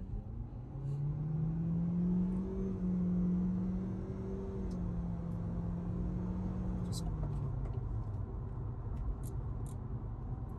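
A Nissan Sentra Nismo accelerates with the AC off, its engine rising in a steady drone that builds and eases over several seconds, heard from inside the cabin with people talking over it.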